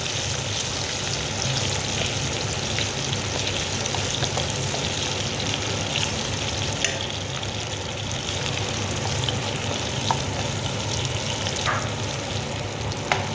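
Onions frying and being tossed in a pan for capsicum masala, a steady dense sizzle running throughout at even loudness, with occasional light clinks and scrapes close by.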